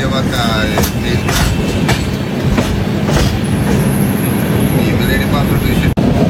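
Tirumala Express train crossing a road-cum-rail bridge, heard from on board: a loud, continuous rumble with a rhythmic clatter of wheels and occasional sharp clicks throughout.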